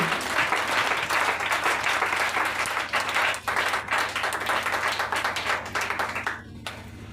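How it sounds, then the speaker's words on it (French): A church congregation applauds loudly and steadily at a Friday evening service, with dense, sustained clapping that dips briefly before carrying on. "Acclame très fort Jésus"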